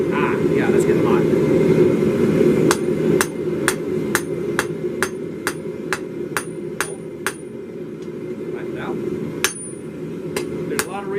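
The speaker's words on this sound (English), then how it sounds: "There's a lot of rebound on that anvil" A hammer strikes metal on a springy anvil in a blacksmith shop with an apprentice, steady ringing blows repeated about twice a second, loud and close, while a voice talks under a broad workshop drone.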